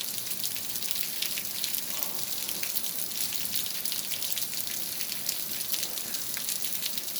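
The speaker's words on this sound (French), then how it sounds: "Vous voyez cette pluie?" Steady, dense rain pours down during a moderate to strong thunderstorm in Capestang, a continuous even hiss of drops on surfaces throughout with no pauses.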